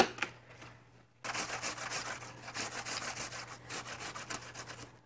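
Apples rubbed against a kitchen grater while making apple muffins, a steady rapid scraping that starts after a brief quiet moment and continues close and loud.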